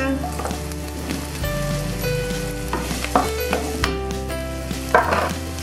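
Sausage and shrimp sizzle loudly in a hot pan for an Indomie carbonara, a dense close frying crackle under a steady background hum, with occasional stirring clatter.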